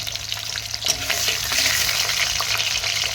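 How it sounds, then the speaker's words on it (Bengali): Potato pieces frying in hot oil in a karahi wok, a steady close sizzle with broad crackle that swells slightly after the first second, with no talk over it. "তো এই যে তেল দিয়ে দিয়েছি কড়াইয়ে, এবারে আলুগুলোকে দিয়ে দিচ্ছি।"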